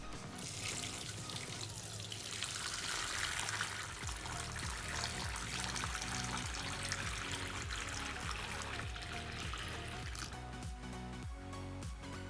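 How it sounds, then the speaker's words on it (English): Steady running water pours into a container for an iPhone 11 Pro Max water test, a continuous splashing trickle with faint knocks and shifts in tone as it fills. "now I'm gonna start the timer and start filling up the water"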